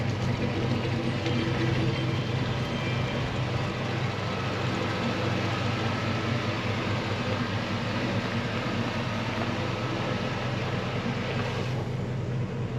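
A 1972 Ford pickup warms up outdoors, its engine idling with a constant, dense rumble that stays even and unbroken from start to finish.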